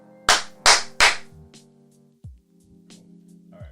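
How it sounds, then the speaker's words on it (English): Three sharp, close hand claps ring out in quick succession, followed by quieter clicks and a brief low thump against a faint tonal hum. "Clap one more time."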